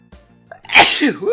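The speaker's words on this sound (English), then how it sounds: "Suddenly in a sneezing mood right now." One loud sneeze, close to the mic, with a short indrawn breath before a sharp explosive burst.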